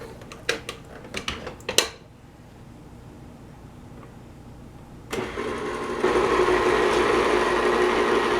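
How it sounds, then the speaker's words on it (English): Electric mixer blending cinnamon coffee cake dough, a steady whirring drone that starts abruptly partway through and grows louder, after a few short clatters and a quiet stretch. "the mixer blending it all up nicely for me"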